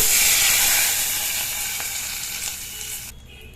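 Dried red chillies and crushed garlic hit hot oil in a pan for tamarind carom seed rasam, a loud close hiss that slowly fades, then cuts off sharply near the end.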